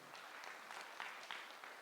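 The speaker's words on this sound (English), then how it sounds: "let's just clap for them one more time" Guests at a breakfast hosted by President Ruto for the World Athletics Championships winners clap for the athletes, a faint, distant ripple of applause with a few louder claps standing out.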